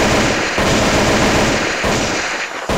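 Sustained automatic AK-47 gunfire from the Critical Strike CS shooter game, a dense, loud stream of rapid shots filling nearly three seconds with brief dips, no talking over it.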